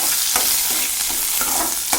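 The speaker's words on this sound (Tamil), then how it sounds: "நம்ம நறுக்கி வச்ச சின்ன வெங்காயம் போட்டு நல்லா ஃப்ரை பண்ணிக்கோங்க." Small shallots frying with garlic in a pan for a chickpea curry, a steady loud sizzle with sharp scraping strokes as the pieces are stirred, close and continuous.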